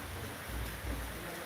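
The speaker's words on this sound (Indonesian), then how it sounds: "Ini hujan guys." Steady rain falls as a dense, even hiss with low rumbling underneath, close and continuous, with no talk.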